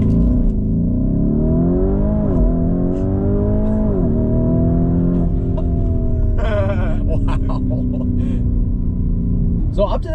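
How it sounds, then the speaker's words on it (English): Lamborghini Urus on a launch-control start, its engine revving and pulling hard through rising gear sweeps with shifts, loud and close, steady and continuous, with brief clicks near the end. "Launch control activated."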